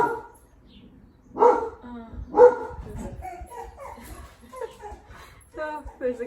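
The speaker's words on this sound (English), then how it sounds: "there goes the dog" An indoor dog gives a few sharp barks and yips in short bursts, near and fairly loud, with a person talking between and over them.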